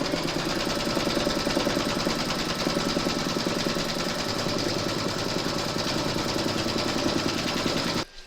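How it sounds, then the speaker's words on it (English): An embroidery machine stitches through batting held in the hoop, a fast, even mechanical whirr and rapid needle ticking that runs nonstop up close before cutting off sharply at the end. "Pop your hoop into your machine and stitch round number 2 to secure it"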